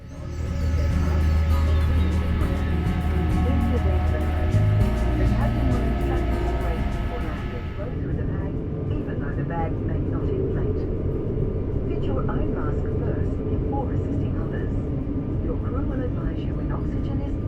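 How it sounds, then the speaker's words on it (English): Airliner pushing back from Gate 7 on a northern Australian domestic route, heard from inside the cabin: a loud, steady engine and air-system roar that drops in level partway through, then continues as a lower hum. "Soon we commenced our pushback from Gate 7, 7 minutes ahead of our scheduled departure time."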